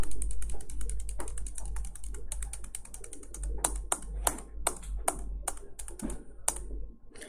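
Keystrokes on a computer keyboard while entering data in Marg ERP 9 software, a quick run of soft clicks that turns into sharper, evenly spaced taps toward the end over a low steady hum.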